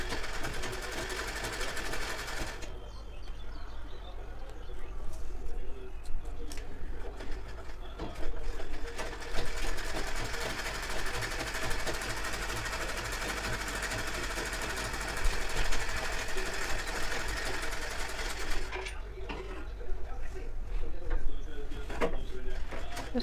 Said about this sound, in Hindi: तो सबसे पहले हमें यहाँ पे इसकी स्टिचिंग कर लेनी है।